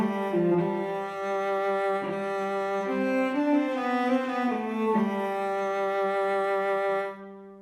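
NI Stradivari cello sample library played with close, mid and far microphone positions all on: a slow, rich bowed cello phrase of several sustained notes, full and resonant, ending with a short fade into silence.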